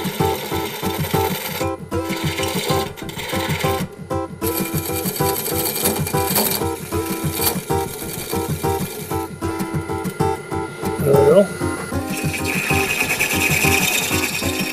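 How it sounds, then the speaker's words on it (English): A gouge turned fully over takes fine scraping cuts on wood spinning on a lathe, a continuous close whirring rasp with the motor's hum running throughout and no talk. "I'm turning my gouge right completely over. And I'm just using a scraping action, and it's a real fine cuts"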